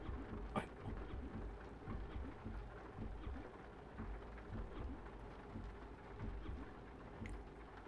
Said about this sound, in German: es regnet ja stark